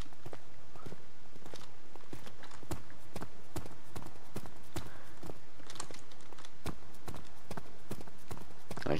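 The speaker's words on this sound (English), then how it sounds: "I can hear my footsteps." Footsteps echo through a huge building in the video game Amnesia, a steady run of hard, irregular clacks with a reverberant ring, fairly close and clear, with no one talking.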